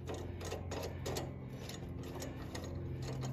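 A ratcheting tool clicks rapidly and steadily up close as a part is screwed onto a small nut during a Farmall 450 tractor brake rebuild.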